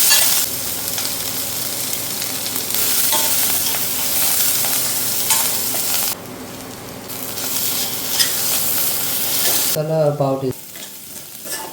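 Spice masala frying in a pan for pepper chicken, a loud, continuous sizzle with stirring scrapes that briefly drops out, then a short spoken voice near the end.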